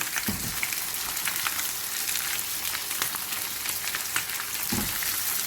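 Onions fry in a pot of lamb paya shorba with a continuous crackling sizzle, scattered pops and spits over a moderate hiss, and no voices.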